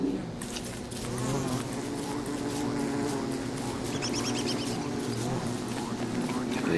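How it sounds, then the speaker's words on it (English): Steady in-game buzzing of sleepy bees from Don't Starve, a continuous insect drone holding level throughout, with a voice talking over it. "They're sleepy bees."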